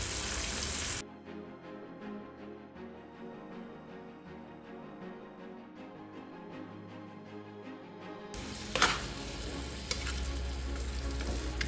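Tomato sauce with eggplant sizzling in a pan while being stirred, a steady close crackle with soft scraping strokes, louder at the start and end.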